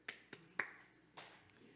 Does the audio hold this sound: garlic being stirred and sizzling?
no